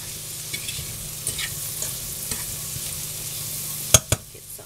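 Black pepper and carrots sizzling in a hot pan, a steady close frying hiss with a few sharp clatters near the end.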